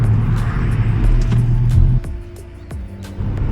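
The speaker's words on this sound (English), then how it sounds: "The car I'm currently driving, by the way, is a Ford Fiesta ST" A Ford Fiesta ST driving on the Haunted Hills race track gives a loud, steady engine drone from inside the cabin. The pitch drops as the driver eases off, then the engine picks up again, with no voices.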